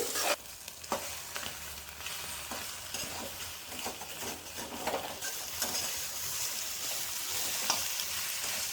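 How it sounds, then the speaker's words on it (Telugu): Eggs frying in large pieces for egg fried rice, a close, continuous sizzle with repeated spatula scrapes and taps on the pan, loud and without voices. "ఎగ్స్ ఇలా పెద్ద పెద్ద పీసుల్లాగా మనం ఫ్రై చేసుకోవాలండి."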